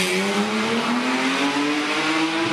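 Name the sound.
rally car accelerating off the start of a stage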